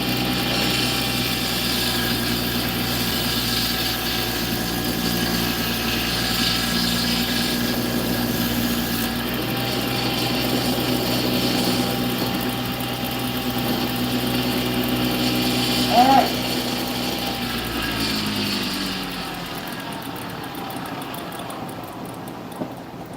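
A findbuytool.com wood lathe runs steadily with a constant motor hum and mechanical whir, a brief squeal near the end before it winds down and stops.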